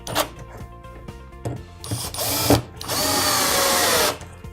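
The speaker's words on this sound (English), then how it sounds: "ready to drill them down and screw them in place." A power drill drives screws to fix a pallet-wood bookshelf in place, with short bursts, then a longer whirring run that rises and holds before stopping, loud and close with some clattering handling noises between.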